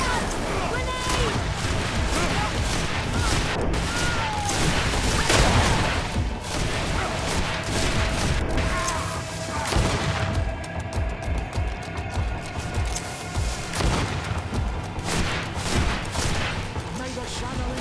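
Dense battle din from the video game GreedFall, with a grenade explosion and rapid gunfire crashing through a continuous roar of combat, loud and near, with shouted voices mixed in.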